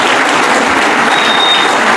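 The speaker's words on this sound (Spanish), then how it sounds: "Un aplauso a los hermanos" A church congregation bursts into steady, dense applause, loud and close, filling the whole two seconds with no voices rising above it.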